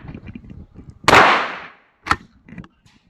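A single loud shotgun blast goes off at close range with a long ringing decay, followed by a softer thump, amid quiet background murmur during recoil-control shooting practice.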